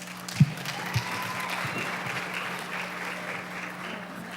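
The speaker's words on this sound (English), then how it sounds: "it's okay to clap" Steady audience applause fills an awards-ceremony hall for the Male Soloist of the Year nominees, a dense, even wash of clapping with a couple of sharper claps near the start.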